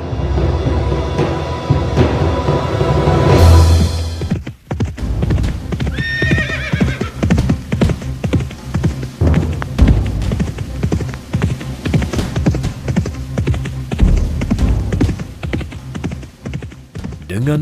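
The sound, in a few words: horse neighing and hooves clip-clopping, in a radio drama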